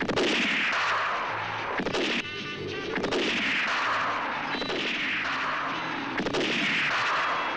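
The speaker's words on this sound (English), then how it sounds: "A rifle that never misses." Rifle gunfire from a 1969 western film trailer: a series of loud, booming shots repeating roughly every one to two seconds, each with a sharp crack and a long rolling tail, with no talk over them.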